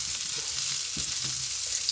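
Artichokes frying in a pan with a little salt give a steady, close hiss of sizzling oil, with faint soft knocks and stirring sounds underneath, no voices.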